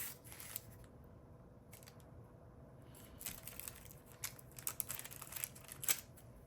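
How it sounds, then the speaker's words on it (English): A knife slices through still-warm milk powder fudge, a series of faint, soft cuts and scrapes at close range, irregular and growing slightly busier toward the end, with no talk. "you wanna cut it now before it gets too hard"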